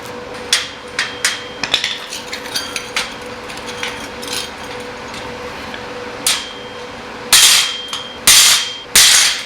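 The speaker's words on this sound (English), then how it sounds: "Let's hit it with a hammer." Sharp metallic hammer strikes on a freshly welded metal joint ring out, first light and quick in a loose rhythm, then a few heavy, loud blows that ring on briefly.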